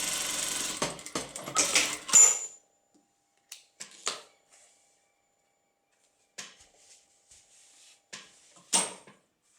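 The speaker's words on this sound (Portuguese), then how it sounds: "Fazendo isso, a gente vai estar fazendo a costura de segurança" A domestic sewing machine stitches a safety seam on a fabric bag: a couple of seconds of quick, rattling mechanical bursts, then isolated clicks and short runs separated by silence.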